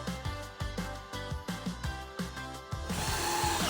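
Power drill driving screws through pocket holes to fasten wooden pieces of a square dining table base, heard as repeated short bursts of whirring motor with pauses between, close and fairly loud, ending in a steadier noisy stretch.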